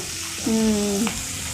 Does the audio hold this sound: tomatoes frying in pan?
yes